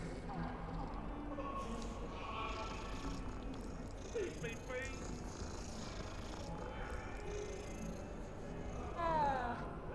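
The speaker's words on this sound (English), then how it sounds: "There's a cat." A cat in Hogwarts Legacy purring steadily under a busy game soundscape, with a couple of faint meows rising briefly, quiet and continuous throughout.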